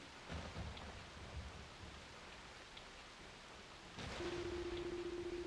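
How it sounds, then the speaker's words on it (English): Rain falling steadily in Ys: Memories of Celceta, a soft, even hiss with faint low rumbles of thunder, quiet throughout and swelling slightly near the end as a low sustained tone enters. "Only the sound of the falling rain and constant thunderclaps could be heard echoing through the darkness."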